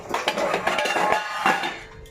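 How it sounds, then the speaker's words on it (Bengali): A small kadai is pulled out from among stacked metal pots and pans, giving a run of close clanks, rattles and scraping clinks that fade toward the end. "কড়াইটা বার করি এখান থেকে,"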